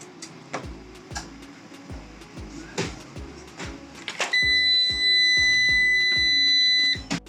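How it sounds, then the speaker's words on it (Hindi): A 5 kVA Maxpower solar inverter gives a long, sustained high electronic beep when its power-button wires are shorted with a screwdriver. Steady rhythmic clicking from the unit plays throughout, before and under the beep. "जैसा कि आपको ये एक बीप सुनाई दी जब मैंने इस इन्वर्टर का जो बटन है इसकी तारों को आपस में शॉर्ट किया है उस पेचकस की मदद से"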